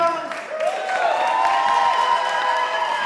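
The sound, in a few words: applause for Skimstone Arts team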